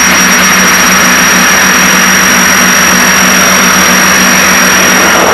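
Piper Seneca twin-engine aircraft engines running at full RPM, a loud steady roar with a constant tonal hum and hiss throughout, heard from inside the cabin with no talk.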